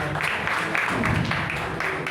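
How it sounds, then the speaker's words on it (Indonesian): An audience claps at a church youth event, a moderate, slightly uneven patter of applause in a reverberant hall, fairly close and lasting a couple of seconds. "sekali lagi beri tepuk tangan buat anak-anak muda kita"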